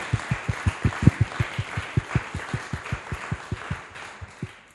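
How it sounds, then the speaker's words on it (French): Applause at a French comedy show, heard as a regular series of heavy, booming low thuds, like one pair of hands or a stamping beat near the mic, over a faint background crowd. "J'ai envie qu'on vous applaudissiez, vraiment."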